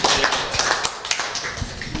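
An audience at the closing session of a health gamathon gives scattered, uneven applause. Irregular sharp claps come from a small group, fairly close.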